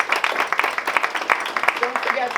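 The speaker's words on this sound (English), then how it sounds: "Let's give them a round of applause." Round of applause from a modest indoor audience at a Science On Tap talk night in a bar, distinct individual claps forming a steady, fairly close patter.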